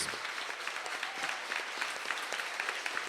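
Audience at a tribute event for metalworkers' union figures gives two labour lawyers a steady round of applause, many hands clapping evenly and continuously at a moderate distance.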